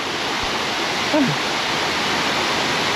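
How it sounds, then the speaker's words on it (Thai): Tad Sae Pha waterfall in southern Laos roars as a loud, steady broadband rush of falling water, close and continuous, with a brief faint voice-like tone briefly rising out of the noise. "น้ำตกครับ"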